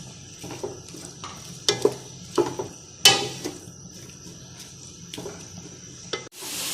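Sliced onions frying to brown in about a cup of oil in a pan for degi mutton korma, with a steady soft sizzle broken by several sharp clatters of stirring against the pan, close and without speech.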